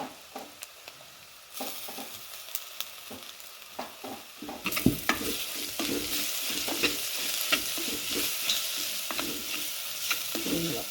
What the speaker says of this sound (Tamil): அப்போ இனி இஞ்சியையும் உள்ளியையும் முடித்து வச்சுக்கிறேன், அதையும் போட்டு வதக்குவோம்.